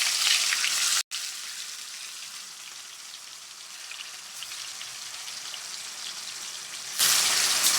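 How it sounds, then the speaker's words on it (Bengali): Pieces of broiler chicken coated in ground spice paste fry steadily in a hot wok, a dense, even crackle that holds close and loud throughout, with one brief dropout and a brighter burst of sizzling near the end. "এখন আগে গোস্তগুলো ভালো করে ভাজা নেবে"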